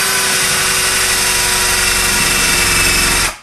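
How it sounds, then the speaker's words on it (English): A power drill bores a large hole in wood, a loud, steady, continuous whine and rumble that holds for about three seconds before cutting off sharply at the end. "it throws out quite a bit of sawdust because we're drilling a really large hole there"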